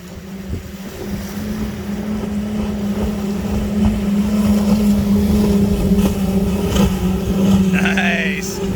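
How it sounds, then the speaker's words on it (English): Low engine drone of a motorboat with five outboard engines growing louder as it approaches and passes, with wind buffeting the microphone and a voice talking over it. "Oh, we got a boat coming."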